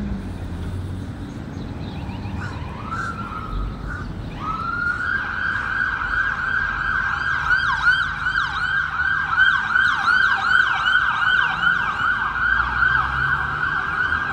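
A loud ambulance siren wails in a steady rising-and-falling cycle, growing stronger after a few seconds over low road rumble on Market Street in Paterson, New Jersey, with no voices.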